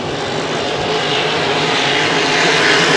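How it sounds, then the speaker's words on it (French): Hydro 350 racing hydroplanes run their engines at full throttle for the final of the 2014 Valleyfield regatta, a loud, steady roar that builds slightly over a few seconds with no talk. "Et c'est plein gaz pour la finale Hydro 350."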